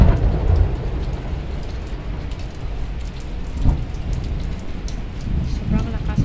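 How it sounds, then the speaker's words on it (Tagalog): Loud thunder rumbles during a heavy rainstorm in Manila, with steady rain noise throughout and a sharper crack near the middle, while a person talks. "Sobrang lakas ng kulog."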